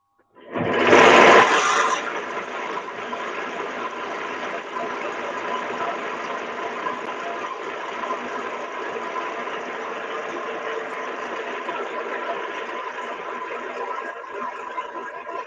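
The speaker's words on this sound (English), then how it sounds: "I'm going to switch on the lathe again, Jay." A lathe whirs up loudly at switch-on, then settles into a steady, continuous mechanical hum with a faint whine that holds unchanged to the end, close by and with no talk over it.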